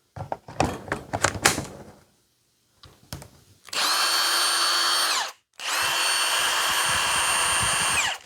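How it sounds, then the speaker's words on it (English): A few clicks and taps, then a cordless drill on a Milwaukee M18 battery whirs loudly in two long steady runs with a brief pause between them. "hook it up to the drill"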